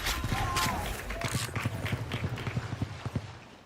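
Footsteps in the video game Valorant tap out a quick, even run of soft thuds under a caster's excited commentary, getting more distinct toward the end.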